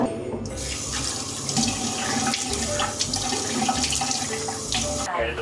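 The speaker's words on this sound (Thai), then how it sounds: "ล้างหน้า" Tap water runs steadily into a sink during face washing at a clinic, a close, continuous splashing stream that is briefly interrupted near the start and again near the end.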